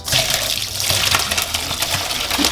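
Boiled menudo is strained at home with hot water pouring out in a steady, close gush that splatters continuously.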